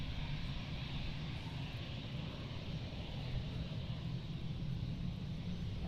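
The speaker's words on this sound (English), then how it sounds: "On screen now we have the EasyJet A320." An EasyJet Airbus A320 landing at Amsterdam airport, heard as a steady, faint, broad jet roar that holds evenly throughout with no clear rise or fall, distant and without voices.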